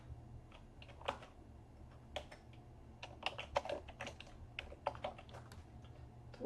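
Irregular keystrokes on a computer keyboard as a password is entered, a quick run of close clicks in uneven bursts with short pauses, heard alone over a low steady hum.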